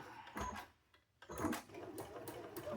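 A sewing machine stitching a quilt pattern runs in a quick, steady whirring patter, pausing briefly before starting up again, soft and close with no talking.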